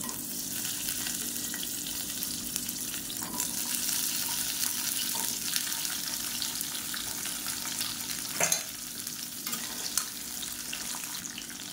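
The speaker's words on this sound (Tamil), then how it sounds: "இந்த முருங்கைக்காயை எண்ணெயில் போட்டு வதக்கிக்கலாம்." Cut drumsticks sautéing in hot oil for a drumstick thokku make a continuous close sizzle, with the odd clink from stirring in the pan.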